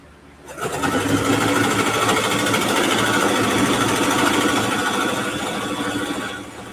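A home sewing machine stitching the bottom of a quilted ruffle backpack: a quick start, then a fast, continuous mechanical whir with rapid needle chatter, close and steady for about six seconds before easing off, with no voices.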